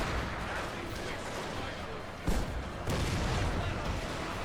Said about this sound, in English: These guys should be quickly going to fire a volley here soon